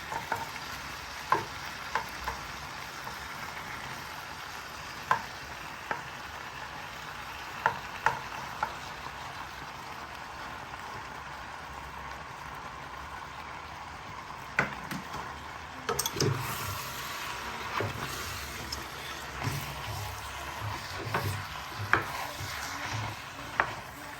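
Spinach being stirred into a pot of Efo Riro with lamb, a steady low sizzle and simmer with soft scraping stir strokes and occasional spoon taps against the pot, no voices.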